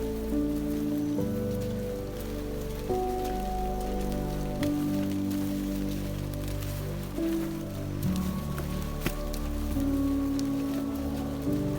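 Steady rain patters through a mossy mountain forest on Mount Argopuro, East Java, on a foggy afternoon, a dense continuous hiss with a sustained tonal drone running beneath it.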